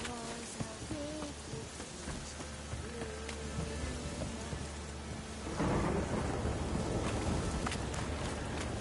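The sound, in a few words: thunderstorm with rain in the video game Witcher 3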